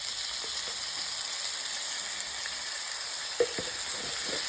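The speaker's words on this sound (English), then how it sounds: "we'll let those saute for about 3 to 5 minutes" Chopped yellow onion and garlic sauté in a pan with a steady hiss, plus a few faint stirring taps near the end, close and even in level, with no voices.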